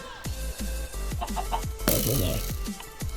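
Chicken clucks in Minecraft while a player rides a chicken, short game clucks over repeated thumping game sounds and a busy burst of effects.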